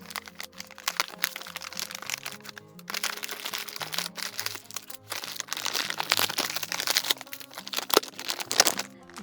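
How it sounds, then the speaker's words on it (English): A resealable plastic package of acrylic-polyester yarn from a crochet basket kit is opened close up, giving loud crackling, crinkling plastic with sharp snaps and rustles throughout, and no talking. "So let's open this up. The package is resealable."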